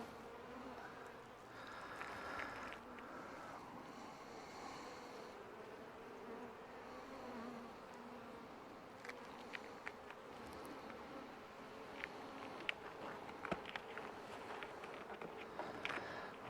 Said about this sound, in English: I've got one bee